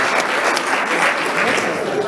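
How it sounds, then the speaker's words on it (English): Clapping fills the room for the junior team 7 Mighty Stars at the Plett sports gala awards, a loud, continuous round of applause with faint voices underneath. "A round of applause for them."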